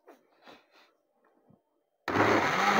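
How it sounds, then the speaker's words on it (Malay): A kitchen blender switches on abruptly and runs loud and steady to the end, following a few quiet voices speaking while nasi lemak is prepared. "Dengan bunyi blender."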